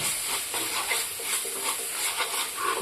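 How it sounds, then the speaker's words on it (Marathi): Masala sautéing and being stirred in a pan for chicken gravy, a steady soft sizzle and hiss with faint scraping strokes, moderately quiet and continuous. "थोडासा गॅस वाढू आणि मसाला परतवून घेऊ आपण चांगला"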